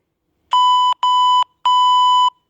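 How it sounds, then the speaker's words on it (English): A timer beeper goes off at the end of a Pilates workout session, sounding three loud, clear electronic beeps of about half a second each in a steady pattern, with no talk. "There's my final beeper."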